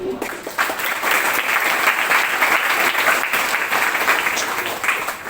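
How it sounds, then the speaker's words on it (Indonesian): Audience clapping at a school class event, a dense sustained burst of applause from a crowd, loud and close for several seconds. "Tepuk tangan untuk mas."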